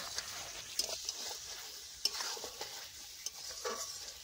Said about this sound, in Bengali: ঢাকনা তুলে তুলে মাংসগুলোকে ভালোভাবে কষিয়ে নিলাম।